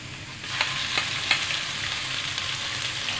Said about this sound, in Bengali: ছোটো এলাচটা একটু ভেজে দেবো